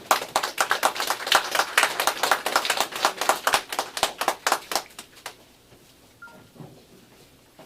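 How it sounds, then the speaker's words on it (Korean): A small audience at a commemoration ceremony claps to welcome the co-chair: a few seconds of distinct, fairly close hand claps that stop abruptly, leaving quiet room noise with a faint knock. "여러분 박수로 박교수 대회장님 모시겠습니다"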